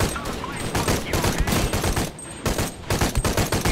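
Gunfire from the video game Shadow of the Tomb Raider comes as a rapid fusillade of close, loud shots in uneven bursts.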